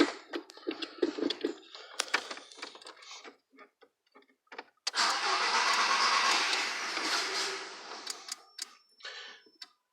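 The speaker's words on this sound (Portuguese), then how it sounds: "Deixa eu me posicionar aqui e dar a partida no carro." A car being started after a fuel filter change, with scattered clicks and knocks followed by a few seconds of steady whirring cranking that fades away, then more clicks.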